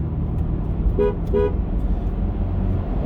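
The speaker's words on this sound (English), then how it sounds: "It's one of them signs where you gotta honk." Two short honks from a car horn sound close by, about half a second apart, over steady traffic rumble from a vehicle on the road.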